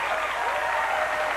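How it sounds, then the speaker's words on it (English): Studio audience on an American talk show bursts into steady, dense applause, loud and continuous for the whole moment with no talking over it. "we got to applaud somebody for taking their kids to school"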